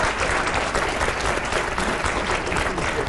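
Dense, sustained applause from a studio audience during a televised debate, loud and continuous for the whole moment with no break.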